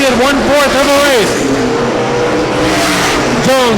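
USAC sprint cars race side by side at Winchester Speedway, engines wailing loudly with rising and falling pitch sweeps as they pass, while an announcer talks over the racing.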